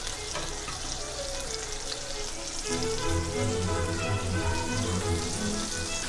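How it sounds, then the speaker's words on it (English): Steady crackling sizzle of chicken frying in a hot pan, close by, growing a little louder and busier partway through, with no voices. "I'm just going to lay in the pan. Nice little sizzle on there."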